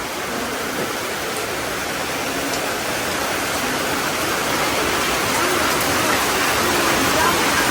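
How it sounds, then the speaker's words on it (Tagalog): Steady, dense rain pours down during flooding with a constant hiss and roar, unbroken and loud throughout, with no voices heard. "Sa lakas ng ulan, no?"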